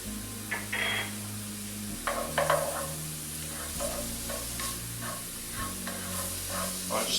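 Four garlic cloves go into a hot pan and sizzle steadily while being stirred, with a low humming drone beneath and a few brief scraping knocks. No voices are heard.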